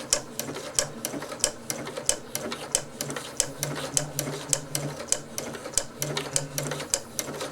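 A Janome 8077 sewing machine with a Daisy Foot attachment stitching a flower pattern, giving fast, evenly spaced needle clicks over a soft motor hum, close and steady, with no talking.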